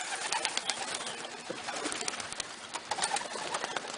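Pigeons cooing in a backyard loft, soft repeated coos over a busy outdoor background with scattered bird calls, fairly faint and distant.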